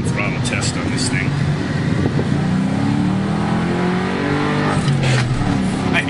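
A Ford Mustang GT runs at wide open throttle, a loud engine roar rising in pitch through two pulls with a gear change between, heard from inside the car with a voice occasionally over it.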